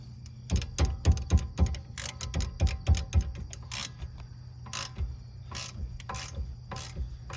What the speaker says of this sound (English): Make sure we got our ratchet set to off.